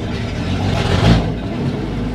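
An International 1200A pickup truck engine drives off at a steady mid-pitched rumble that swells briefly mid-way, then settles back to an even drone.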